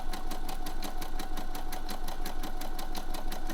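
A sewing machine runs a slow triple stitch over elastic, its needle thumping in a steady, even rhythm close by with a constant motor hum and no voices.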